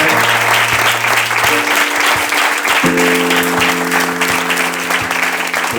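Sustained audience applause fills a poetry reading event in Santa Coloma de Farners, dense and steady throughout with a few low tonal hums running beneath the clapping.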